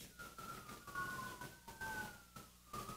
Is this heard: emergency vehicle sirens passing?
yes